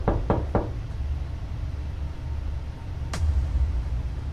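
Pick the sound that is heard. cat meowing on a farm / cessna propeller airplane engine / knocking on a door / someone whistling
knocking on a door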